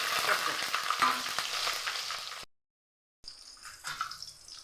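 Fennel seeds sizzling and crackling in hot oil in a pan, loud and busy at first, then a brief silent break before the frying resumes more sparsely.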